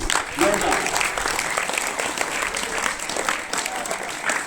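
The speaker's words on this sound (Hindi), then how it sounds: "ताली तो बजा दो फिर अपने लिए।" Schoolchildren from Golden Flower School clap together in a room during a session at a Gayatri temple, a dense, continuous burst of applause with voices mixed in.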